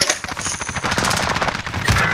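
Rapid automatic gunfire in Warzone Rebirth Island, a continuous, loud, close burst of rattling shots with no break and no talking.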